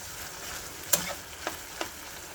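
Mushrooms fry in a pan with a soft, low sizzle, broken by three short clicks and scrapes of stirring, close and fairly quiet.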